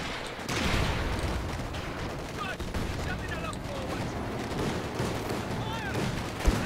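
Dense gunfire rattles on continuously in a Company of Heroes 2 battle, with bursts of shots and booming impacts blending into a steady wall of combat noise while voices talk over it.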